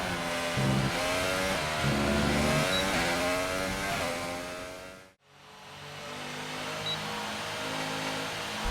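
F1 race car lapping a circuit in a driving sim, the engine howling through rising and falling revs with gear shifts. A brief dropout near the middle, then the engine picks up again, loud and steady and without any talk.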